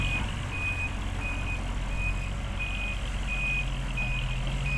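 A truck backing up at an excavation pit sounds its reversing alarm, a regular series of about seven evenly spaced high beeps over a low steady diesel engine rumble.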